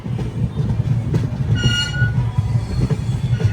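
An Indian passenger train coming into Bhilwara station: a steady low rumble of railcars with rhythmic wheel thumps, and a brief high metallic squeal of wheels partway through, close and continuous with no talking.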